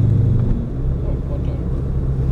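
A 1969 Maserati Ghibli 4.7 V8 rumbles steadily up close, a deep, continuous engine drone.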